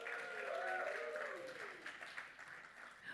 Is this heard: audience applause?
yes